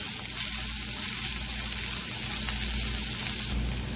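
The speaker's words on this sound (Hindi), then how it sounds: "साथ में डाल देंगे प्याज, हरी मिर्च अच्छे से सौते कर लेंगे।" Onion and green chili sautéing with ginger and garlic in a pan for sabudana khichdi, a steady loud sizzle and frying hiss throughout with no talking.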